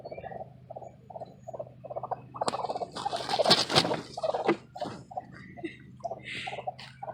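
Chickens cluck in a quick, steady run of short calls, with a louder, busier flurry of squawks in the middle before the clucking settles back into its even rhythm.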